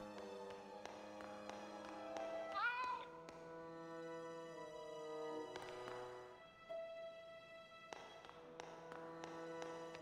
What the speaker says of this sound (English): it was obviously a cat